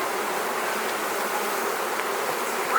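Honeybees buzzing in an opened, freshly split hive, a dense continuous drone close up with no voices.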